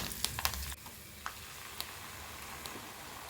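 A ground paste for ivy gourd thokku hits hot oil with curry leaves in a pan, a sharp crackling burst at first, then settling into a softer, steady sizzle.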